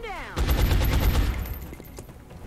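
Suppressive gunfire in the video game XCOM Long War: a loud, dense burst of automatic shots that fades slightly toward the end, preceded by a short falling electronic tone.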